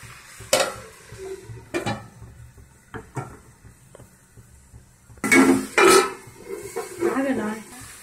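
Mutton pieces frying in a pan with turmeric, heard as a soft sizzle broken by loud metallic clanks and scrapes of a stirring utensil, clustered in bursts toward the end.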